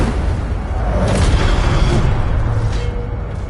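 Incendio fire spell cast in Hogwarts Legacy, a loud roaring burst of flame with a booming whoosh that swells and lingers for a few seconds, close and alone.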